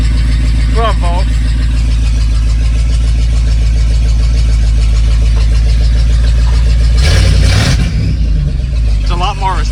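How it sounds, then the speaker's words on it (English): A car engine idles and runs loudly after an engine swap, with a steady low drone, a short burst of noise near the end, and chirping, warbling belt squeal at the start and close; a voice is also present. "A little bit of belt squeal."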